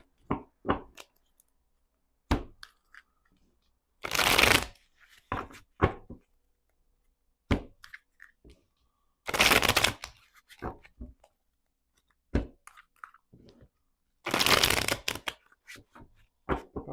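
Tarot cards are shuffled by hand in three crisp riffling bursts, spaced about five seconds apart. Sharp taps and clicks of cards being handled fill the quiet gaps between the shuffles.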